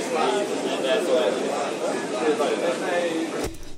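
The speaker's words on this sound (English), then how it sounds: "But it's actually a crowd of people talking." Dense murmur of a crowd of people talking, used as a sample in a heavy beat, with overlapping voices and no clear words, steady and close, cutting off abruptly near the end.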